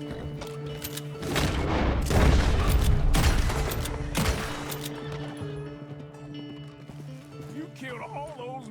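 Pistol shots ring out in Red Dead Redemption 2 during a gunfight, several loud cracks and booms bunched in the middle, with horse hooves and game music running underneath.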